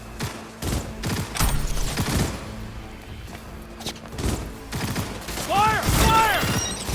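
Close-range gunfire in the video game Cyberpunk 2077: a rapid series of sharp, loud shots and bursts fills the scene, joined near the end by raised, shouting voices.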